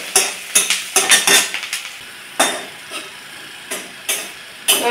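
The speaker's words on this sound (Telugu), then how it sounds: "ఇలా కలుపుకోవాలి, ఎర్రగా వేగిన దాకా కలుపుకోవాలి" A spoon clatters in quick, irregular scrapes and knocks against a pan while onions, green chillies and dried red chillies fry with a soft sizzle, the strokes loud and close, then spacing out.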